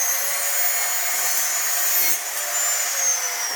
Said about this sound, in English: These saws are loud,